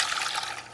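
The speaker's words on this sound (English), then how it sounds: "Add the broth." Broth poured into a pot of Puerto Rican-style pinto bean stew with pumpkin, a short, steady, close trickle of liquid.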